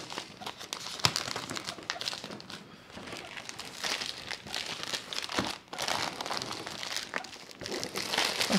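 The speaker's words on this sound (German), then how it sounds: "Folie lösen." Plastic protective film is peeled off a DJI Air drone box, a close, continuous crinkling and crackling with brief sharper rips, heard alone without talk.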